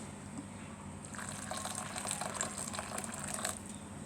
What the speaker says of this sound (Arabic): انا هحط شويه ميه تاني اهي